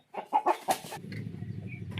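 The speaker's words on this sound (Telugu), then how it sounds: "ఏం పుంజు బ్రో ఇది పచ్చకాకి బ్రో" A pachakaki breed rooster gives a few sharp, close clucks in quick succession, then a lower ongoing murmur and faint background noise.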